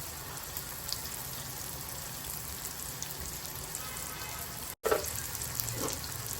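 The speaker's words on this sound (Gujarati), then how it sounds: "ઢાંક્યા વગર જ આપણે 5 મિનિટ માટે ટામેટાને થોડા ચડવા દઈશું" Chopped tomatoes cooking uncovered in a pan for a mixed vegetable dish, giving off a soft, steady sizzle and bubbling close by, interrupted once by a brief dropout before the faint simmer continues; no voices.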